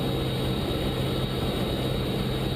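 Light aircraft engine on an instrument approach into Kansas City as power is eased back: a steady, loud, close cabin drone with a constant low hum.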